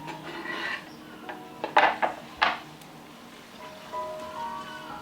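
A spoon scrapes and clinks against a pot while spiced chicken curry with turmeric, coriander and garam masala powders is mixed, a few sharp metallic knocks standing out over quiet stirring.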